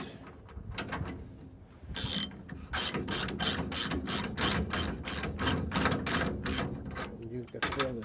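A ratchet spins a bolt on a trailing arm bracket of a 1968 Chevrolet C10 truck, fast repeated clicking bursts in a steady rhythm, close and clear.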